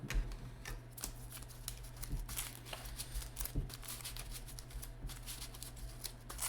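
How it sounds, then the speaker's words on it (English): A deck of cards is shuffled for a Marvel Legendary deckbuilding card game, heard as a steady run of soft, quick riffling clicks and flicks. A low, constant background hum sits underneath throughout. "Let's go ahead and shuffle up a little bit here."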